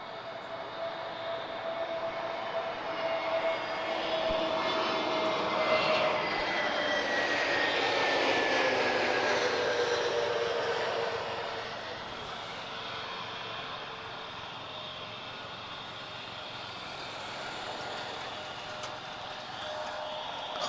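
An Airbus A320neo with Pratt & Whitney engines lands at Lisbon Airport, its engine whine swelling as it passes near, then fading into a lower rumble as it rolls out.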